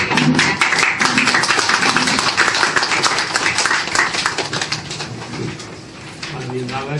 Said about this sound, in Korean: 큰 박수 부탁드리겠습니다